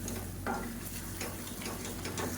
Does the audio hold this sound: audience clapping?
no